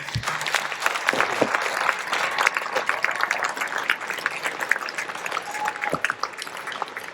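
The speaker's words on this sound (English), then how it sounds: "I know all of you have been waiting to give a round of applause" A room of attendees at a 2022 Oregon gubernatorial candidates forum in Pendleton gives a sustained round of applause for the candidates. Many hands clap steadily at a moderate level, with a few sharper individual claps standing out.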